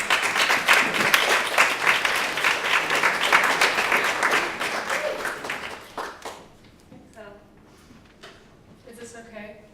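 An audience applauds to welcome graduate Carly Margolis at a contemplative studies diploma ceremony, with loud, steady clapping for about six seconds that then thins out, and a few voices murmur as it dies away.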